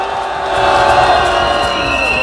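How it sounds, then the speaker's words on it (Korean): A large crowd at a street rally and march in Itaewon claps and cheers, a dense, loud, sustained roar of applause and voices that swells after a brief quieter start. "다시 한번 박수 보내주십시오."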